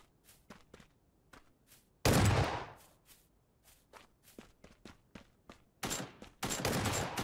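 Gunfire bursts in the mobile battle royale game Knives Out, with loud rapid volleys at the start and again near the end, between sparse quieter clicks and footsteps.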